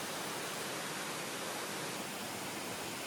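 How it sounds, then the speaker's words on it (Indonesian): Steady broadband rush of the Jantur Batuk Bura waterfall, about six meters high, in Kampung Lakan Bilem, Nyuwatan, heard as an even, unbroken roar that neither rises nor falls, with no voices. "Satu lagi jantur atau air terjun yang saya rekomendasikan adalah Jantur Batuk Bura"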